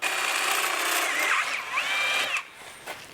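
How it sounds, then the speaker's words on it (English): Power drill zinging bits into wood, a loud steady whine with rising and falling pitch as the bit spins, cutting off sharply near the end and followed by a brief quieter tail. "Oh man, I love these drill bits."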